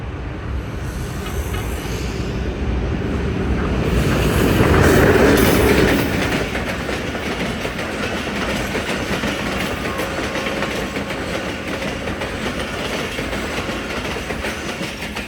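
A train rolls along rails with a loud, continuous rumble and a steady clickety-clack of wheels, swelling briefly partway through; no one speaks.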